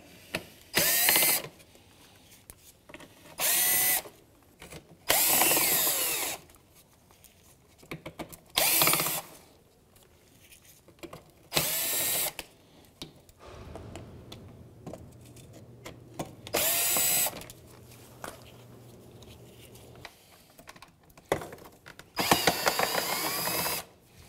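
A power drill loosens Phillips head screws from the front bumper grille of a 2007–2013 Mitsubishi Outlander, whirring in loud bursts of one to two seconds separated by quiet pauses, close up, with no speech.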